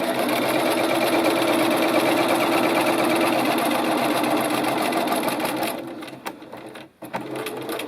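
A sewing machine stitches an invisible zipper with a fast, steady mechanical whir and needle patter close by, then slows and stops into a few scattered clicks and light handling noises.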